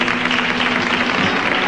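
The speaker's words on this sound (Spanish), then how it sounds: "¿Se lo pedimos con el aplauso que se merece?" An audience breaks into applause for a performer, a dense, even wash of clapping that fills the whole moment.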